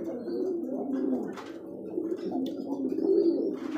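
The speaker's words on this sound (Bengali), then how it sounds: "আমি কবুতরগুলো ডাকে এই জন্য ভাই।" Pigeons kept for sale coo continuously in low, throaty rolling calls, several birds overlapping close by, with faint background noise and no talk.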